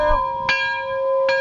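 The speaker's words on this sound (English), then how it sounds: "Somebody ring the bell!" A bright bell rings at a truck dealership with a sustained, ringing tone, struck again twice in quick succession, clear and close.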